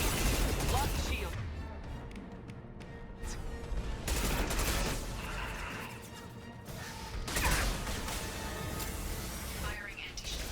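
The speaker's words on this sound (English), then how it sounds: "Firing anti-ship batteries at collector vessel." Anti-ship batteries fire at a Collector vessel in Mass Effect 2, a series of heavy mechanical bursts and crashing volleys over a rumbling battle din, with a voice speaking through parts of it.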